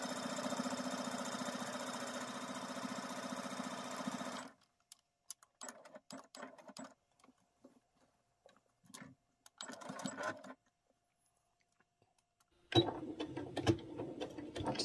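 Sewing machine top stitching a fabric pocket, a steady close mechanical whir for several seconds, then scattered short bursts and handling noises, a quiet pause, and the stitching whir resuming at the end.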